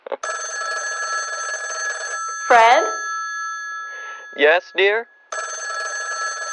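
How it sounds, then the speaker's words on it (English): A telephone bell rings in long, loud bursts, pausing while a man and a woman exchange a few brief words, then ringing again. "Telephone's ringing."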